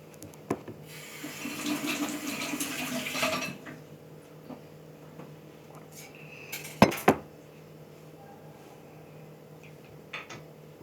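Water poured and drunk at a home table during a late-night pre-dawn meal, with dishes and cutlery clinking; a splashy pour early on, then quieter clatter and two sharp clinks midway.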